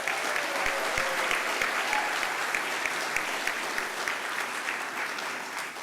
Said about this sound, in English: Let's give a round of applause to the Humboldt County Sheriff